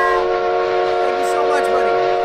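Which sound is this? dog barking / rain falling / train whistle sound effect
train whistle sound effect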